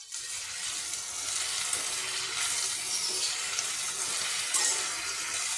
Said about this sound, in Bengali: আমি গ্যাসটা হাই ফ্লেমে করে দিলাম কিছুক্ষণের জন্য এইভাবে নেড়ে নেড়ে ভেজে নেবো